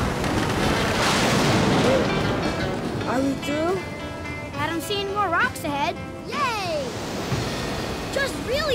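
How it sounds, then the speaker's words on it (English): Big storm waves on a stormy sea in a children's Viking voyage cartoon crash and roar as a continuous loud wash, with cartoon voices and whistle-like tones rising over the surf in the second half. "just really big waves."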